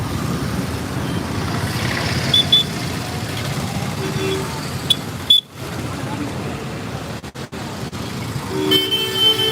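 A vehicle backs up on a street while a car horn toots a few short times amid steady traffic noise, with people talking nearby.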